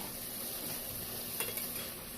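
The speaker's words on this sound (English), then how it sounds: "it's going to be kind of a sauteed stir-fry type" Mixed vegetables sauté in fat in a pan, giving a steady, even sizzling hiss with a couple of faint utensil clicks near the end.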